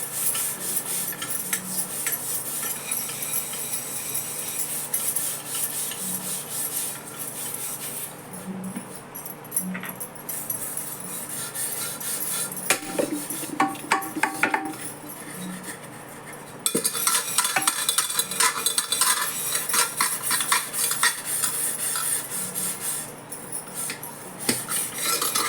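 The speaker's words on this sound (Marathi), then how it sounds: "हे मी घासून दाखवते तुम्हाला पितांबरीने." Aluminium pressure cooker scrubbed by hand with Pitambari cleaning powder, a steady close rasping scour with intermittent metallic scrapes and knocks, growing brighter and louder partway through.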